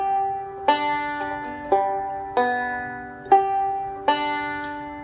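Close and clear, a banjo plays a steady rolling picking pattern with thumb, index and middle fingers, bright plucked notes repeating in an even cycle with no talking.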